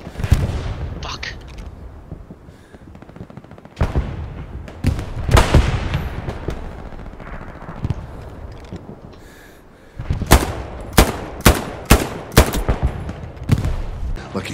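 Gunfire in the World War II shooter game Hell Let Loose: loud, close bursts and single shots crack in rapid succession, with a sustained stretch of battle noise and booms and then a run of sharp, evenly spaced shots.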